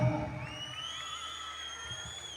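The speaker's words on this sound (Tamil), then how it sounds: "குழந்தைகள் மட்டும் ஆசிரியர்களுக்காக ஒரு கைத்தட்டல் கொடுக்கலாமா" Children in an audience at a Tamil comedy speech event clap and cheer for their teachers, a steady crowd roar with shouts and whistling tones throughout.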